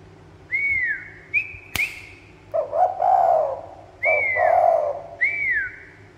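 A spotted dove decoy bird gives several soft, rising-falling coos in short bursts, close and clear over a quiet background, with a sharp click in between.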